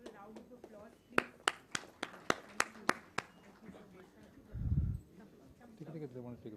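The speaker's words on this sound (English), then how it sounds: "Can we give a round of applause," A small pitch-event crowd gives a short burst of about eight sharp, separate claps, followed by people talking in the room.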